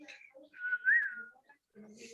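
A voice whistles to imitate the wheeze of an asthmatic patient, a few short rising and falling whistled tones, close and fairly quiet, with brief speech sounds around them.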